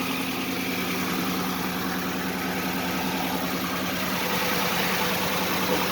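Electric radiator fans run beside the idling 5.7 Hemi in a 1971 Dodge Challenger build with an aluminum radiator, making a steady whooshing hum over a low engine rumble.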